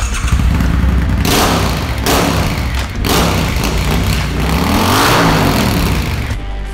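Custom Triumph Thruxton 1200cc motorcycle with a black-finished 2x2 shotgun-style exhaust, its engine droning loudly and steadily close by, with a few revs swelling and dipping.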